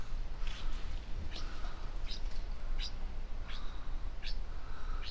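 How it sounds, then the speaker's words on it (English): A rescued pet bird outdoors, never caged, gives a few short, bright chirps spaced irregularly over steady outdoor background noise, fairly faint and at a moderate distance. "Budge, this bird has never been in a cage in its life."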